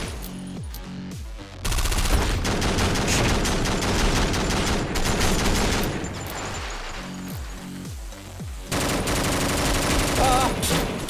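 Video game gunfire in a bloody manor setting, rapid bursts of automatic shots in long, loud volleys with brief pauses between.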